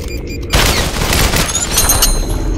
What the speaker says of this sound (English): I can't believe that grenade didn't kill him